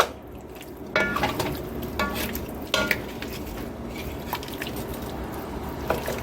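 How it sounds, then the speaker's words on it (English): A spoon stirs kimchi, lemongrass and water together in a pan for taco filling, giving wet squishing and a few sharp scrapes and knocks against the pan at irregular intervals. "Stir everything together."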